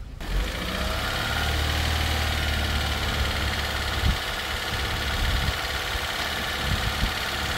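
A Vauxhall Corsa engine idles steadily while jump-starting a Dacia with charging issues, giving a continuous close rumble with a light knock and a brief click at the start.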